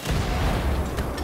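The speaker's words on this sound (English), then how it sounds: "Grenade!" A grenade blast in the World War II shooter Wolfenstein: The Old Blood, a dense, booming low rumble that fills the whole moment with no separate voice over it.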